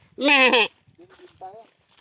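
A water buffalo lets out one loud, strained call, then quieter vocal sounds follow in short bursts.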